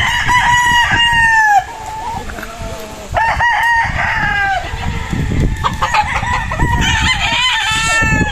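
Several Joe Goode Grey gamefowl roosters crow loudly and close on a gamefarm, long overlapping cock-a-doodle calls repeating throughout, with clucking and farmyard noise underneath.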